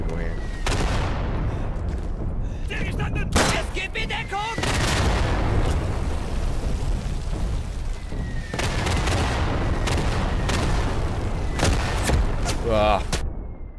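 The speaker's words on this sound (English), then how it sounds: "let me see if I can rifle grenade some people here" A rifle grenade fires in the Day of Infamy battlefield amid scattered sharp gunshots and heavy booms, loud and close, with several distinct bursts spread across a noisy combat soundscape.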